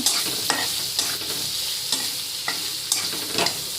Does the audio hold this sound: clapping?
no